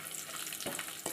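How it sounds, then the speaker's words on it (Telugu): Dry fruits fry in a pan for beetroot halwa, a soft continuous sizzle with a couple of light stirring scrapes, brief and fairly quiet, no voices. "ఇలా కొంచెం ఫ్రై అవ్వనివ్వాలి."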